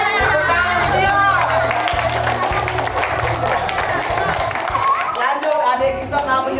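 Children's laughing contest on an Indonesian kids' stage show, with a crowd clapping and cheering throughout under a host's loud talk and background music.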